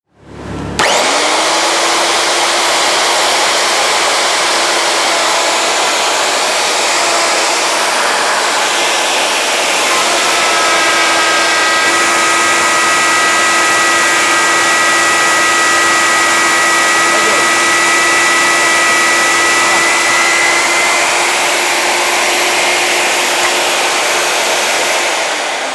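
An electric wood router, a Yasuka YER-012, starts up and runs at full speed with a loud, steady high-pitched whine throughout, around 90 decibels, the pitch shifting slightly midway.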